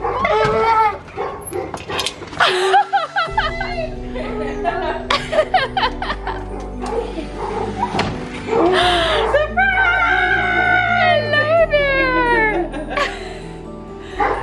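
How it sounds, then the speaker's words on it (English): Family dogs bark and yip excitedly at a house door in Arizona, mixed with loud, happy voices, laughter and squeals of people greeting each other. "We hear their dogs."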